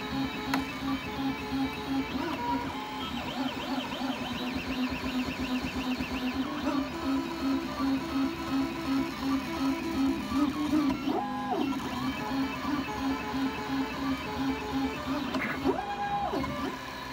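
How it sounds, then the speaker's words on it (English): 3D printer printing a box, its stepper motors giving a steady whirring hum with shifting tones and short pitch jumps as the head moves, continuous and close. "let's take a moment and watch the main box print on the printer"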